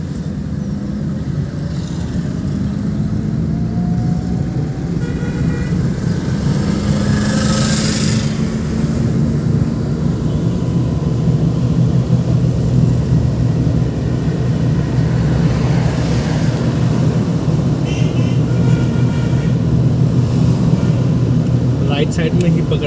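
A car drives in second gear during a driving lesson, a steady engine hum with a slowly rising pitch and continuous road rumble, while an instructor talks over it.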